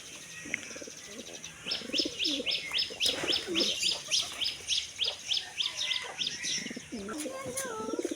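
Domestic pigeons coo in low, repeated phrases while higher bird chirps run in quick bursts through the middle, with voices at times underneath.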